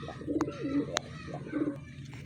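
A young racing homer pigeon coos close by in a few soft, rounded phrases, with a faint chirp from another bird and light background noise.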